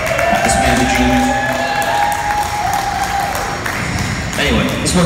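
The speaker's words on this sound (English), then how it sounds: "Mr. Clark, give him a round of applause." A concert audience at Art Sanctuary in Louisville, Kentucky applauds and cheers loudly and without a break, with whoops and a sustained tone held under the clapping.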